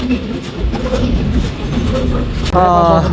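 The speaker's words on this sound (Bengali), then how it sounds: "যে ট্রেনে আসলাম সেই ট্রেন আমার ছেড়ে গেল বিদায় বিদায় হে ট্রেন" A departing passenger train rumbles and clatters past at a station, loud and close, with a sudden rise into a harsher, tonal grinding of wheels near the end while people talk over it.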